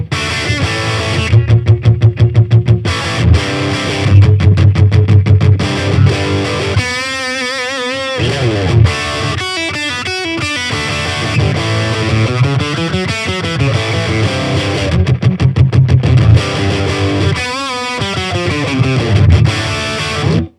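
Electric guitar played dry with no reverb through a Fender Champion 40 amp set for a distorted rock tone, loud chugging chords and riffs with rhythmic stops, alone without any voice.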